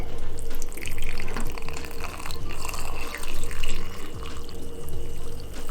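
Liquid poured over a hot chocolate bomb in a mug makes a steady, continuous splashing gush, close and fairly loud, with no talking.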